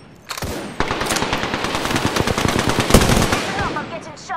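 Rapid automatic gunfire in the video game Apex Legends, a loud, dense burst of close shots rattling for several seconds, with a few faint game sounds mixed in.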